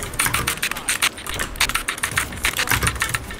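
Fast, dense typing on a computer keyboard during an online game session, keystrokes clattering in quick irregular bursts with a steady low rumble underneath.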